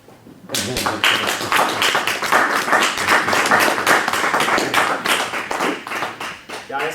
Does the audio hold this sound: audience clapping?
yes